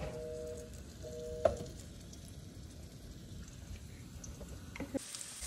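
Okra dropped into hot oil in a kadhai on a gas stove, giving a steady low frying sizzle with a couple of sharp clinks and a brief louder crackle near the end.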